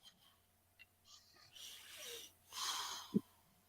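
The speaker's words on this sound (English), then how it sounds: "Yeah, you'll hear him really snore." A man snores faintly nearby, with breathy, hissing inhales and snorting rasps in uneven bursts and a short grunt near the end, in a quiet room without talking.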